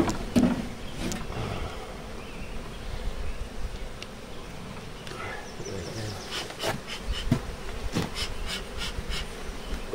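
Large swarm of honeybees buzzing loudly and continuously close by, a dense drone with scattered clicks and rustles and some breathing.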